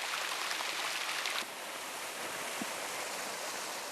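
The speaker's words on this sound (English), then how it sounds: "A waterfall drops ceaselessly in a green forest." Waterfall dropping steadily in a green bamboo forest in Zhejiang, a broad, continuous hiss of rushing water, fairly close and unbroken, with no voices.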